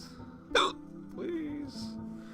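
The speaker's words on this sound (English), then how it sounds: "These hiccups." A single sharp hiccup jolts out near the start, followed by a drawn-out voiced sound, close and fairly quiet, with talking around it.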